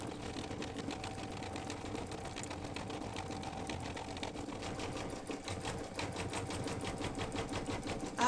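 An embroidery sewing machine stitches an in-the-hoop mug rug with a steady, fast mechanical chatter of needle strokes, running continuously at a soft, even level without any voices.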